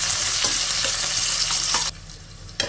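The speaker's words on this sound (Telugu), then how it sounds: "ఇప్పుడు వీటిని ఒక 2 నిమిషాలు ఫ్రై చేసేసుకోవాలి" Sliced onions and slit green chillies fry in a pan for vegetable pulao with coconut milk, making a close, steady sizzle with a few soft stirring knocks before the sound drops away near the end.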